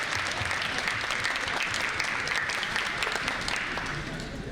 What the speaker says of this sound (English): we just give a round of applause of encouragement for the young lady behind me